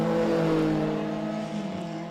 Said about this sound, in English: Still 4 laps to go for race 2 of the heritage touring cars.